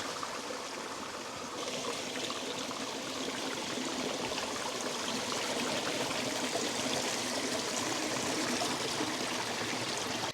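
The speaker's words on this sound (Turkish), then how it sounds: "Akarsuyu görmüşken bir çekelim istiyorum şöyle yakından." A stream in Cyprus, near Sinai Monastery, flows steadily in a continuous, moderately quiet rush and babble of water, heard close up without any talking.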